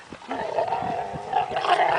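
A dog growls and grumbles continuously with short huffs and yips mixed in, close to the microphone and fairly loud throughout.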